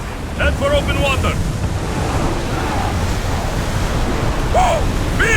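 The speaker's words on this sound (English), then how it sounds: "Whoa! Feel that wind!" Strong sea wind roars across the open water around a rowed warship in Assassin's Creed Odyssey, loud and continuous with surf-like rushing, while brief voices and calls cut in near the start and end.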